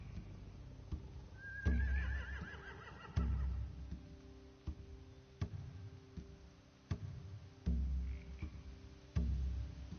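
Horses whinny loudly and repeatedly in The Walking Dead video game, the high neighs mixed with a steady rhythmic clopping of hooves and occasional thuds.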